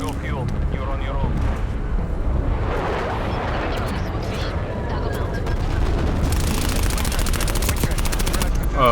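Rapid gunfire and rumbling napalm-strike explosions from a Call of Duty Black Ops Cold War multiplayer match, a dense, loud barrage with continuous crackling bursts and a sharp burst of automatic fire near the end.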